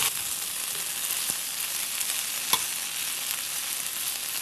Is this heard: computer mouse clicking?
no